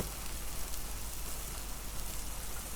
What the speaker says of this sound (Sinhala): බුදුම වැස්සක් තියෙන්නේ